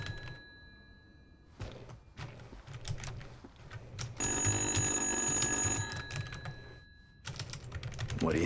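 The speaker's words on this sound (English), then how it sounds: "Phone's ringing." A phone rings in the horror video game Little Hope, a bright electronic trill sounding for about two seconds mid-clip amid clicking keyboard taps and quiet game ambience.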